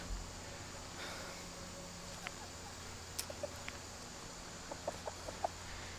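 A chicken in a backyard coop gives soft, short clucks scattered through the second half, faint and intermittent against a steady low hum of background noise.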